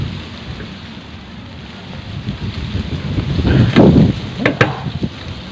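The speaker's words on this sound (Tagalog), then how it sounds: "Lakas ang hangin" Strong wind roars through a star fruit tree during a harvest, a steady broad rush that swells louder toward the end, with gusty bursts and faint rustling.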